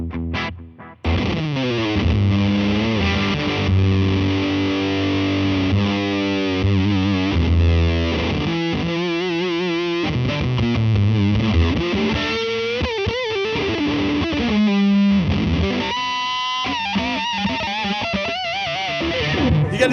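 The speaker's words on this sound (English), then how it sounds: "this fuzz in particular is one of my all-time favorites, the Band of Gypsys fuzz, and it sounds like this." Electric guitar played through a Dunlop Band of Gypsys fuzz pedal, loud and saturated, with sustained chords and bending lead phrases ringing continuously for the whole stretch, no talking.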